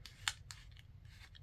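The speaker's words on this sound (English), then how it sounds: "Let me just round it with my scissors." Scissors round the corner of a paper piece for a handmade folio with pockets and tags: a few close, crisp snips, one sharper than the rest, against a quiet low hum with no talking.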